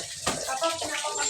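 Water running and splashing steadily at close range, with a voice briefly heard over it.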